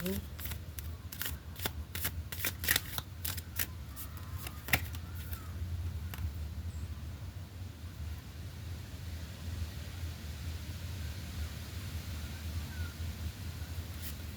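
Tarot cards being shuffled by hand, a quick run of crisp riffling snaps in the first few seconds, close but fairly soft, then quiet room tone with no talking.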